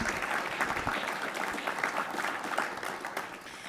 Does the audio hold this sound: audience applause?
yes